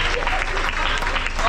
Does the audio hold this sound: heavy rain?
no